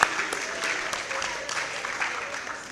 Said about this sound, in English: Please a clap, our friend.